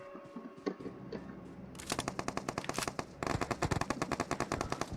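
Rapid automatic gunfire close by in PUBG Mobile, starting with a few scattered shots, then breaking into long bursts of loud, sharp reports, with a brief pause between volleys.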